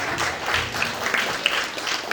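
Audience at a book launch gives brief, moderately loud applause, a dense wash of clapping with a few sharper individual claps standing out.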